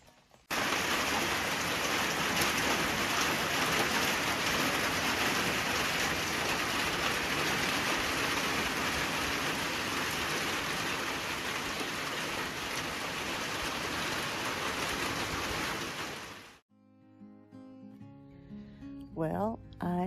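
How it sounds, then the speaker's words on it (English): Steady rain at an off-grid homestead in Maine, a dense, even hiss lasting about sixteen seconds before cutting off abruptly. Faint sounds and a voice follow. "Here comes the rain."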